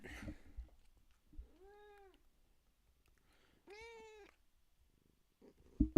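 A pet cat meows twice, close and fairly clear, each call a drawn-out tonal cry separated by a couple of seconds of near silence, with a faint low rustle in the background.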